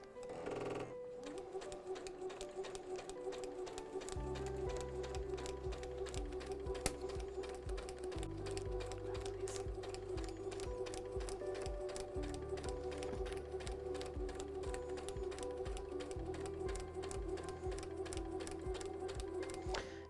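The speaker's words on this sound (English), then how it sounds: "Go ahead and prep my sewing machine" A sewing machine stitches along dotted lines printed on a roll of triangle paper, running steadily with a rapid, even needle rhythm in long continuous bursts that shift slightly in pitch, close and alone with no talk.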